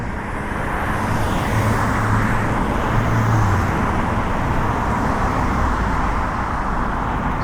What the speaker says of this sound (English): Got our cars coming up here.